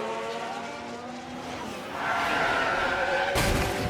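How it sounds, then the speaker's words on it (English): A race car in F1 Manager 24 on the Baku street circuit, engine drone shifting, then a sudden loud broadband crash impact near the end, with no talk. "Oh, that's a big old impact."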